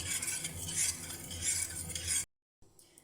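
Vanilla sugar being stirred in a pot on the stove for a gelatin dessert, a steady scraping swirl that continues for a couple of seconds before stopping abruptly.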